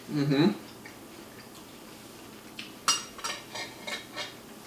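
A crisp apple bitten and then chewed near the mic, a sharp loud crunch followed by several rhythmic crunchy chews that fade gradually, with a brief voice just before.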